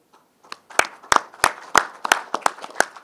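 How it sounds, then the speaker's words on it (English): Press conference audience clapping for mountaineers who climbed K2 without oxygen, a small group of sharp distinct claps in an irregular rhythm, close and clear. "A big round of applause for them."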